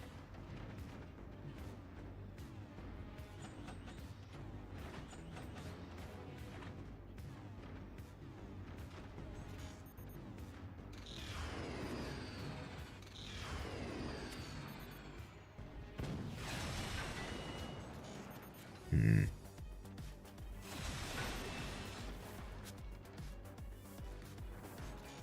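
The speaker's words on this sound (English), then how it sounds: "Cannons are firing now." Cannon volleys in the Forts RTS game, heavy booms and whooshing shots spread through a busy battle mix, moderately loud, with one sharp loud blast near the end.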